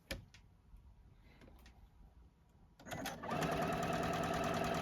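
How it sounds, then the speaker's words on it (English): A JUKI sewing machine starts up after a few quiet clicks and handling sounds, then runs steadily and loudly at an even pace while stitching a small fabric piece for a Santa ornament. "I am going to sew the next one."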